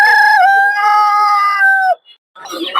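A rooster at a poultry market in Tongi lets out a loud, drawn-out crow close by, followed after a brief pause by a burst of market noise.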